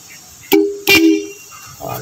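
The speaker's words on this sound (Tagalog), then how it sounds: "iparinig ko yung tunog sa busina." A loud disc horn fitted to a tricycle blares in two short honks, close and strong, with faint background noise between and after.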